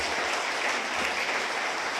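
Church congregation applauding during a sermon, a dense even burst of clapping filling the whole short stretch with little else audible.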